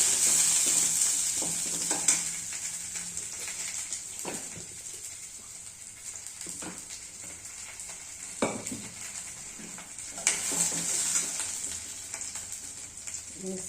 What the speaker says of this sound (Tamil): கொஞ்சம் நாட்டு சக்கரை ஒரு சின்ன டீஸ்பூனில் போட்டு கலக்கி விட்டுக்கலாங்க